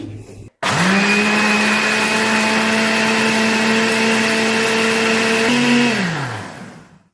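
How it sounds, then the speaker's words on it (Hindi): A kitchen blender runs loud and steady, blending oil, vanilla essence and milk into cake batter, its motor whining at a constant pitch for several seconds before spinning down and fading out. "अब इसे मैं कवर करके ब्लेंड कर लूँगी"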